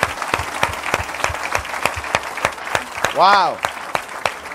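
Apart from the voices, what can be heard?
congregation applauding in church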